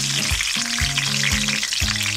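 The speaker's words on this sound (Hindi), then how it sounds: "अभी इनकी एक साइड जो फ्राई हो जाएगी" Frozen K&N's chicken koftas fry in oil in a kadai, giving a loud, close, steady sizzle with crackling bursts and no one speaking.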